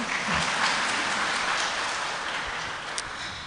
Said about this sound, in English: you may give him a big round of applause